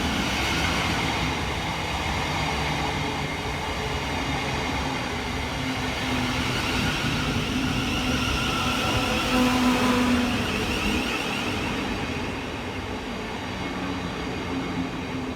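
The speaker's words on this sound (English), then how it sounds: "Next arriving into the station is 707013 and 707001, working the 1132 Southeastern service from Hayes through to London Charing Cross." Southeastern class 707 electric units 707013 and 707001 arrive at a station on the Hayes line, a loud sustained rumble of wheels and motor whine with faint squealing tones, steady and close throughout.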